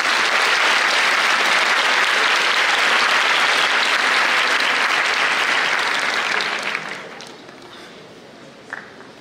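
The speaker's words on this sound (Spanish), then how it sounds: "Les pido un fuerte aplauso para recibirlo." Loud, dense applause from a university induction-day audience in a health sciences centre welcomes a speaker, sustained for about seven seconds before fading to a quiet room with a faint knock near the end.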